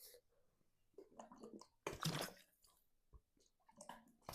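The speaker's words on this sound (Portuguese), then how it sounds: "Vou beber mais água, a garganta está secando" Someone drinks water from a bottle up close, with faint wet mouth sounds and a louder burst of gulping and sloshing in the middle, then quieter swallowing afterward.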